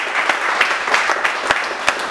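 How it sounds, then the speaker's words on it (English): A crowd at a Thanksgiving-weekend award presentation for the Jackie Robinson Fortitude Award claps and cheers in a steady, dense roar of applause, fairly loud and sustained throughout with no talk over it. "First Rider crowd, make some noise."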